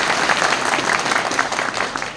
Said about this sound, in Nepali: एकचोटि ताली बजाउनु त सबैले।